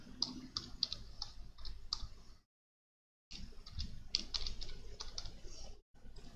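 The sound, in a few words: typing a new name on a computer keyboard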